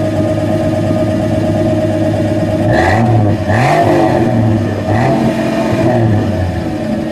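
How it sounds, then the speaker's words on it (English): A 1972 Plymouth Valiant Scamp with a 110-horsepower engine idles loudly and steadily close by, then rises into a few throaty revs that drop back to idle. "Go ahead and give it a rev."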